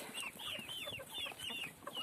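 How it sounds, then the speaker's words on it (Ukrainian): Small chicks peep and cluck in quick, repeated bursts, close by, with a soft rustling background. "бачите, курчатка біжать"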